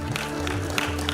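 A crowd at a cultural committee honouring ceremony claps loudly and steadily, a continuous wash of applause throughout, with a sustained tone and faint voices beneath it.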